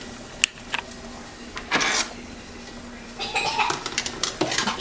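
Glass canning jars of pickles are lifted out of boiling water, giving a few light, sharp clinks and knocks over a steady background hiss, with faint voices and a cough nearby.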